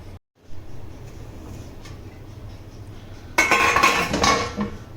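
A metal lid set onto a pot of Malabar-style kappa biryani makes a brief clattering clink, followed by a second of ringing metallic rattle near the end.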